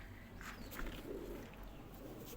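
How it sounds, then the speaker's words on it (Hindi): Pigeons coo softly in a loft where many are kept, a faint low murmur under quiet background noise, brief and without any talking. "यहाँ पर सब कबूतर बैठते हैं।"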